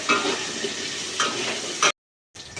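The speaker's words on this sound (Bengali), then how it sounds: "আলুগুলোকে কিন্তু এইভাবে লাল লাল করে ভেজে নিতে হবে।" Potatoes sizzling in a hot pan with a steady hiss, punctuated by a few stirring bursts, then a brief silence before the frying resumes.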